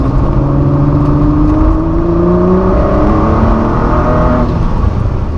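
A Ford GT's engine pulls hard on the road near Le Mans, a loud sustained in-car drone whose pitch climbs steadily through the revs as the throttle is held open.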